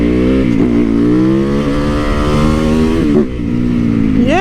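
A Yamaha VMAX motorcycle engine revs loud and close, its rumbling tone climbing and dipping through several throttle blips.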